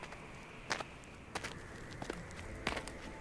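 Footsteps as a sound effect in a Harry Potter audiobook: a handful of sharp, irregular steps, quiet and a little distant, over faint background hiss.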